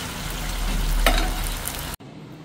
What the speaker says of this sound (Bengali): মিশিয়ে ভালো করে একটু কষিয়ে নিই